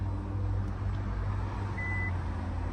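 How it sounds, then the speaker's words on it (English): A single short electronic beep from a 2015 Chevy Camaro SS as its convertible top finishes sounds briefly and fairly faintly over a continuous low engine rumble. "It's going to beep at us when it's all set and complete there."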